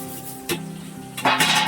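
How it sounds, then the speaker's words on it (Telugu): Amaranth leaves (thotakura) fry in a pan with a faint steady sizzle, broken by a sharp clack of utensil on metal and then a louder burst of hissing frying noise near the end. "బాగా ఫ్రై అయిపోతుంది అన్నమాట."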